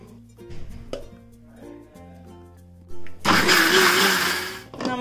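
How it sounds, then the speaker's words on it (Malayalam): A mixer grinder starts up loud and close, whirring steadily as it grinds coconut, cooked rice and coconut water for appam batter, after a few quiet clicks and knocks of the jar being set up. "ഈ തേങ്ങാവെള്ളം ഉണ്ടല്ലോ അത് ഇതിലേക്ക് ഒഴിച്ചിട്ട് അരച്ചെടുക്കാം"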